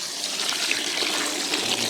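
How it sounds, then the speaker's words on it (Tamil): Water pours in a steady, close stream into a cooking pot for pasta, a continuous splashing hiss with no voices. "ஃபஸ்ட் தண்ணி கொஞ்சம் லைட்டாக ஊற்றிக்கலாங்க."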